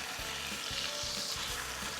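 Pork tenderloin sears in a hot pan, giving off a loud, dense sizzle that stays constant the whole time, with soft low thumps under it.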